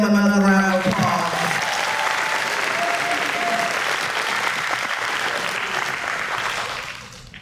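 A middle school promotion ceremony crowd claps steadily for science fair winners, a dense, loud wash of applause that holds for several seconds and then tapers off at the end.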